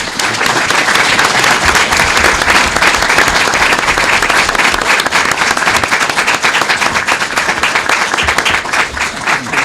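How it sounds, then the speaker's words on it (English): An audience at a Springfield mayoral candidates debate breaks into loud, sustained applause, a dense, close roar of many hands clapping steadily throughout with no pause. "Please join me in a big round of applause for our candidates."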